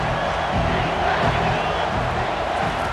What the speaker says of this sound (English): This crowd knows when to bring it.